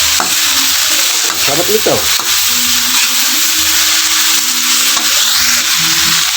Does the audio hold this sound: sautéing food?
yes